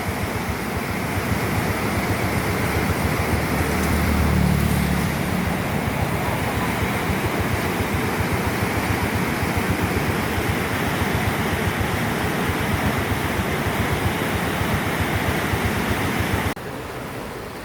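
Muddy flash-flood water surges down a canal and pours over a weir after heavy rain, a loud, unbroken roar of rushing water that holds steady before dropping off abruptly near the end.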